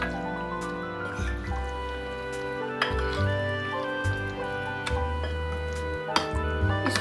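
Keema being stirred with ground tomato and yogurt in a pan, giving soft wet squelching and scraping that repeats at a steady pace over a low background hum.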